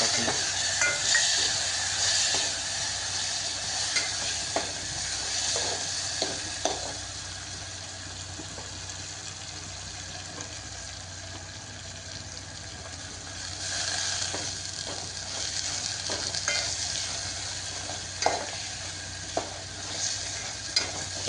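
Chillies fry and are stirred in hot oil for a dhaba-style dal tadka, a steady sizzle running throughout with scattered clinks and scrapes of the spoon against the pan.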